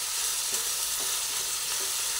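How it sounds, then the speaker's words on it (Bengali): Sliced onion fries in oil over a high gas flame, a steady, dense sizzle close by with faint stirring underneath and no voices. "গ্যাসের ফ্লেমটা একদম বাড়িয়ে রেখেছি, বাড়িয়ে রেখে পেঁয়াজটাকে ভেজে নিচ্ছি"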